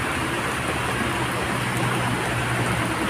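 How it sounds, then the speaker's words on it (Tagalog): Heavy rain pours steadily, a dense continuous hiss of drops hitting surfaces close by, with a low rumbling undertone throughout. "parang lumakas talaga yung ulan"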